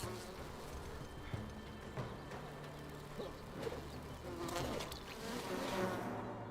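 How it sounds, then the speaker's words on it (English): Bees buzzing in a video game, a continuous insect drone over a busy background of game sounds that swells slightly toward the end. "More bees."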